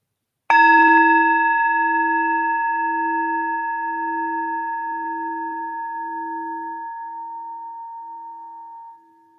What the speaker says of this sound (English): Using the sound of this bell to allow your awareness to submerge itself in the silence, following this bell as far as you can.